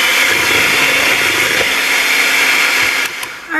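An electric hand mixer beats German pancake batter just after milk has been added, a loud steady whirring drone that holds constant for a few seconds, then dips and sputters near the end.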